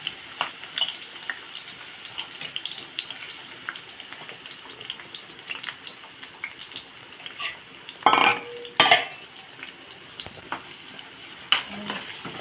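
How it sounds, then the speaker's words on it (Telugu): Green chillies and onions are stirred into a hot tempering in a pan, with a low continuous sizzle and a few sharp utensil clinks and scrapes, no one talking. "పచ్చిమిర్చి ఉల్లిపాయలు కలిపేస్తుంది తాలింపులో వెరైటీగా"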